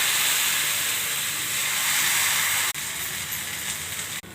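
Dosa batter made from jonna rava sizzles steadily as it is poured onto a hot pan greased with ghee, a loud continuous hiss close by with two brief dips near the end.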